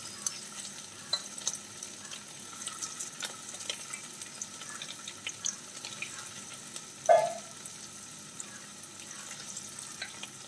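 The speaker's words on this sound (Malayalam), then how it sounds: "ഓരോ മീനായിട്ട് നമുക്ക് അതിലേക്ക് വറുത്തിട്ട് കൊടുക്കാം." Fish pieces fry in a pan for cutlets, a faint steady sizzle and crackle, close, with one brief louder clink partway through.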